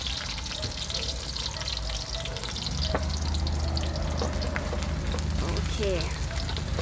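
Noodles being stir-fried in a pan hiss and sizzle in a continuous, dense crackle, with scraping stirs and a short spoken word over the top.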